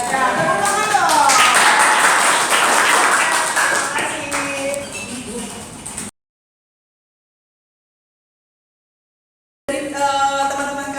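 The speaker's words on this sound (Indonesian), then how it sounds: "Ya, tepuk tangan dong." Students in a classroom applaud together for several seconds with dense, steady clapping that slowly fades. A short gap follows, then voices speak.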